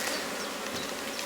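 Honey bees buzz at an open hive, giving a dense, continuous hum of many insects that sounds close and steady with no other sounds.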